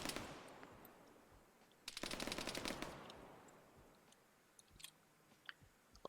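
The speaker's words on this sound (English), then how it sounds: "Hearing some auto rifle fire being given." Automatic rifle fire in the video game Arma 3 sounds as a short, rapid burst of muffled shots at middle distance, with a few faint scattered pops afterward and a soft hiss underneath.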